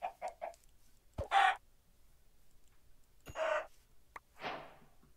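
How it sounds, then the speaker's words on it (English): Minecraft chicken clucking in short bursts: a quick triple cluck, then two louder squawks and a trailing cluck, close and clear with no voices over it. "Saw a chicken"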